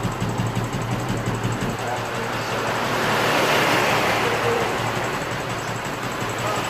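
Norwinda Scrambler motorcycle engine with a Suzuki gearbox, running at around 3,000 RPM: a steady, close mechanical hum that swells slightly midway and holds on without pause.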